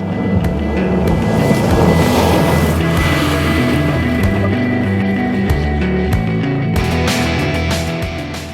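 A 2011 Ford F-150 Raptor with its 6.2-liter V8 drives hard, producing a loud, steady, close engine roar with a deep rumbling drone that holds for the whole stretch and eases slightly at the end.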